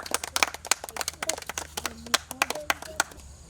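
An audience claps in a quick, uneven burst of sharp hand claps that stay close and fairly loud for a few seconds, with a faint voice in the background.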